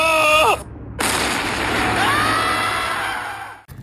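An AR rifle fires a single loud, sharp shot, followed by a sustained, noisy roll of echo that fades over a few seconds. A brief voice is heard just before the shot.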